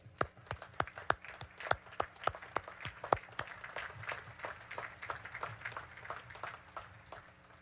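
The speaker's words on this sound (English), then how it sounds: "let's give them a third round of applause" Audience applause at a Naval Academy graduation ceremony honouring the graduates' loved ones: sharp, distinct claps, loudest at first, then thinning into a softer spread of scattered clapping from a distant outdoor crowd.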